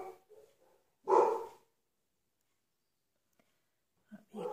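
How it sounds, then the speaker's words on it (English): Dogs on a rural bush block bark in a short burst, fairly close and fairly loud, with a couple of fainter yips before it and another pair of barks near the end, separated by quiet gaps. "Something to set the dogs off."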